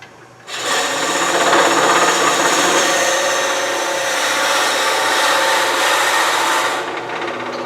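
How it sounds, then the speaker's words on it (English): A steady, continuous whirring grind of a drill bit boring into a natural-edge wooden goblet, loud and close, starting abruptly and running for several seconds without talk. "Not the best drill bit in the world, but good enough for this."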